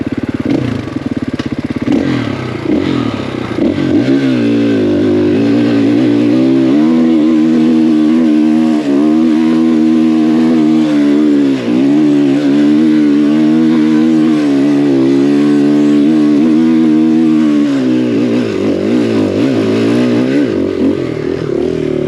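A KTM 500EXC-F dirt bike engine revs hard in second gear while climbing a steep hill, a loud, sustained near-constant roar that wavers with throttle changes before easing off at the end.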